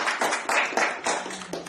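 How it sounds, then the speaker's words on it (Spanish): An audience applauds to welcome a speaker at a workshop, close and fairly loud clapping in short, uneven bursts. "Un aplauso."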